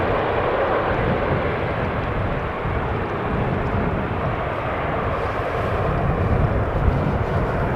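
Airplane arriving on runway 18R, the Polderbaan, at Amsterdam Schiphol in windy weather, a loud continuous broadband engine roar with heavy wind rumble that holds steady for several seconds.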